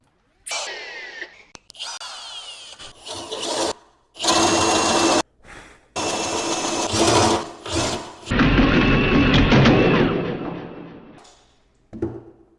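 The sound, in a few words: drilling a hole in wood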